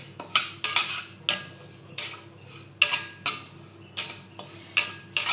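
Semolina (rava) roasting in a pan as a spoon repeatedly scrapes and clinks against the metal, about a dozen sharp, close scraping strokes in an uneven rhythm with no talking.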